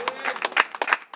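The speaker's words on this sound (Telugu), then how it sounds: "కొట్ట చప్పట్లు గట్టిగా." A congregation at a church gospel service claps loudly and rapidly in an irregular burst, sharp close hand claps layered over one another.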